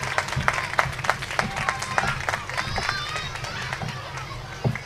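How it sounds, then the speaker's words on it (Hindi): Audience applause at a Christmas festival with orphan children in Youhanabad, a steady dense clapping wash with some louder individual claps and a voice speaking over it. "ज़ोरदार तालियों के साथ जो इतनी बड़ी काविश लेकर हमारे दरमियान मौजूद हैं।"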